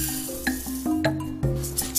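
Risotto rice dry-toasting in a hot pan with no oil or butter, stirred so the grains scrape and tick against the metal in repeated strokes, with a light sizzle and a few close clinks.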